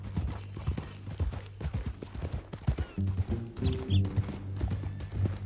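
Horse hooves clip-clop in a western video game, a close, uneven run of hollow knocks over a low droning background with faint mechanical creaks and a brief whinny-like sound.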